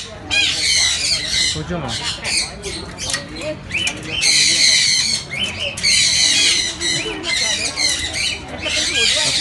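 Large parrots in a pet shop let out loud, harsh screeches in repeated bursts close by, while someone briefly speaks between the calls.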